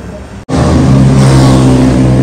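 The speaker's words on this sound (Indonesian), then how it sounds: "Berisik banget. Ada anak motor lewat." Loud motorbikes passing on a street near a town square in Temanggung: after a brief hush, a sudden surge of close engine roar holds steady and loud for the remaining couple of seconds.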